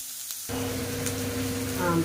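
Onions sauté in a pan for a Tirunelveli sodhi kulambu. A steady, close sizzle kicks in abruptly after a brief quiet start and holds evenly to the end.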